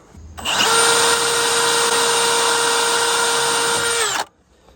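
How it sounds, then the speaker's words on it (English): A power drill at max speed bores a 7/64 bit into a Chevy Express frame for a tow hitch. It gives one loud, steady, high-pitched whine for about four seconds, then cuts off, heard up close with no voices. "I got my drill set to drill baby drill"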